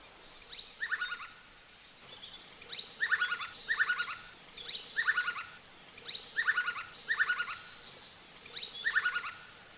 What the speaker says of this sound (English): This loud call belongs to the great Slaty woodpecker.